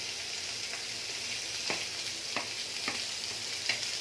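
Chopped onion and green chilli sizzle steadily in a pan for mushroom gravy, with several sharp scraping stirs of a spatula at intervals, close and alone without any talk.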